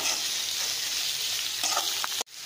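Onions sauté in a pan for Sri Lankan onion sugar sambal, giving a loud, close, steady sizzle with stirring that ends in a brief clatter.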